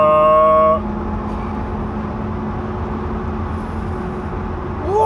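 A 2011 GMC van under acceleration at around 50 to 60 mph gives off a steady, loud droning hum from the rear end, a constant tonal whine over road rumble, with a brief higher tone at the start and end.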